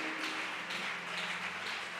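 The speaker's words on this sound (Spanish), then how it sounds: "Dele fuerte ese aplauso a Jesús" A church congregation claps steadily together, a dense patter of many hands at moderate volume.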